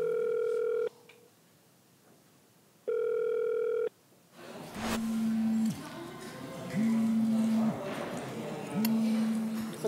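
An outgoing phone call's ringback tone repeats steadily, several long tones with even pauses, after an earlier stretch of a different two-part tone; background room noise and faint talk sit around it.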